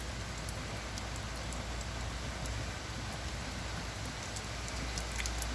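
Steady rain dripping off the edge of a roof just past a door during a heavy rainstorm, a dense continuous patter with scattered sharper drops, fairly quiet and unbroken.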